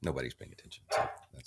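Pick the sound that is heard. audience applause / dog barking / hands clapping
dog barking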